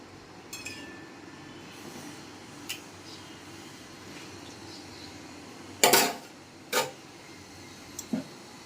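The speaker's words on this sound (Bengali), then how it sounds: "জলটাকে একটু নেড়ে নিই।" A spoon stirs water heating in a cooking pot, giving a couple of brief, fairly loud metallic clinks late on over a quiet room hum.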